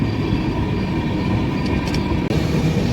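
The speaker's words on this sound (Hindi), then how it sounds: "तो ट्रेन यहाँ पे पहले शुरू हुई थी, फिर ट्रेन को सिग्नल मिल गया तो ट्रेन अब फिर अपनी पुरानी रफ्तार पकड़ने की कोशिश करती हुई।" The Tamil Nadu Sampark Kranti Express rumbles steadily from inside the moving train, a loud continuous low roar of wheels and carriage as it gathers speed.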